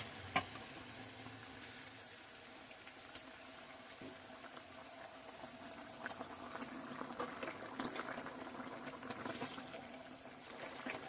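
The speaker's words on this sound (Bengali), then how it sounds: "মাছের গ্রেভির ঝোলটা ফুটে উঠেছে" Fish curry gravy for katla kalia with green peas bubbles in a pan, a dense simmering crackle with scattered pops that slowly grows busier.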